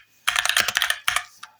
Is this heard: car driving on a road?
no